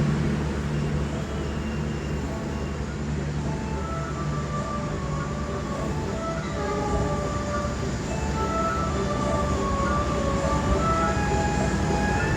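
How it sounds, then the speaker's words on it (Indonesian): The Manahan executive passenger train from Gambir to Solo Balapan arrives at track 3 of Cirebon station, a steady rumble of rolling wheels and rail noise with faint tonal squeals, continuous and close throughout. "Segera masuk di jalur 3 stasiun Cirebon, kereta Manahan keberangkatan Gambir tujuan Solo Balapan."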